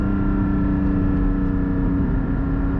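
A 400-horsepower Porsche GT4 engine drones steadily from inside the moving car, a loud, constant low hum and whir with no pauses.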